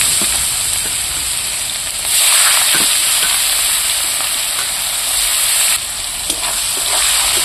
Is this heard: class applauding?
no